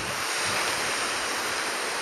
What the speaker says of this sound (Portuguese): O mar já tá mais calmo.